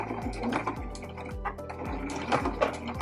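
Sewing machine back stitching through a fabric bread bag, a low motor whir broken into short repeated bursts with a clicking rhythm, close and fairly quiet, with faint background clatter.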